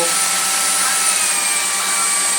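A Jimmy HW 10 vacuum cleaner drones on without a break, its motor giving a loud, even whine with a high-pitched tone, alone with no talking.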